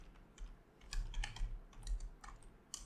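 Fingers typing on a computer keyboard, a quiet irregular run of close key clicks in short bursts with brief pauses, no talk.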